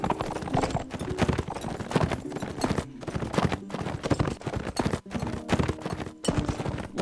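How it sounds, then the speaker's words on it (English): Rapid galloping hooves of a horse in the Mount & Blade: With Fire and Sword video game, dense repeated clip-clop beats running steadily and loud throughout with no talk. "Press W to spur the horse onward, and S to rein him in"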